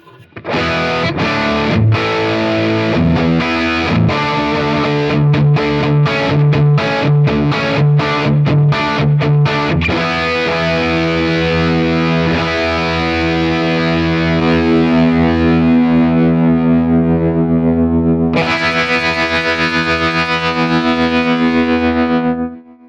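An electric guitar plays through a Strymon Iridium pedal set fully wet, heavily compressed, quick picked notes giving way to long, evenly sustained chords, loud and close.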